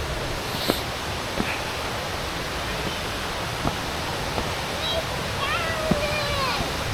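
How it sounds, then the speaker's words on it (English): Toorongo Falls roars as a steady, broad rush of falling water, loud and close, with a few light knocks and birdlike chirps over it and no clear talk. "The waterfall!"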